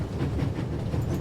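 Old-fashioned steam train in The Raven, aboard the Orient Express, with a coal car up front; a steady, dense rolling rumble of wagons on rails with faint clickety-clack, continuous and fairly loud throughout.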